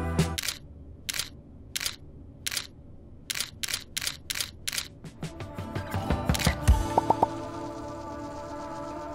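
Camera shutter clicking during a selfie, a series of sharp, evenly spaced clicks close to the mic, then blending into louder rustling and background noise.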